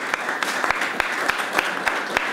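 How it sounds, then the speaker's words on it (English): A small audience claps in steady applause at an Ayurveda Day event at the Embassy of India in Paris, with sharp periodic claps standing out over a dense, even patter. "let's just give a round of applause today"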